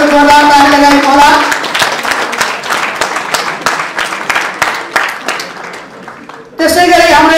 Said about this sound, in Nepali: कृपया विद्यार्थी छोराछोरीहरू जोरदार ताली लगाइदिनु होला।